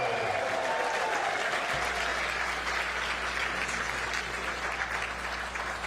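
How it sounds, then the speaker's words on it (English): Sustained applause from a large crowd at a Super Tuesday 2024 election-night victory speech, a dense steady roar of clapping that fills the whole span, with a low hum entering partway through. "Let's give a big applause."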